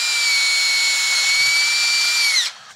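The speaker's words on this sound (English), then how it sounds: "now I have a DeWalt cordless drill" A DeWalt cordless drill bores into a broken shaft in one loud, steady high-pitched whine that holds for over two seconds, then winds down and stops.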